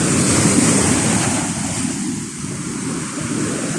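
Ocean surf rumbles and washes in a continuous loud roar, mixed with gusty wind buffeting the microphone.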